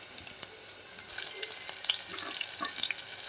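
Green chillies sizzle and crackle steadily in hot oil in a pan, with no talking.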